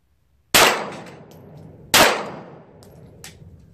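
Two sharp metallic strikes from a pistol fired with Federal factory ammunition and a 4.5 lb striker spring, each a loud crack with a ringing decay, followed by a faint click.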